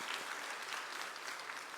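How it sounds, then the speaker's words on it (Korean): Church congregation applauding during a Sunday evening worship service, a steady dense wash of many hands clapping at moderate volume throughout, with no talk over it. "하나님께 영광의 박수를 올려드리도록 하겠습니다."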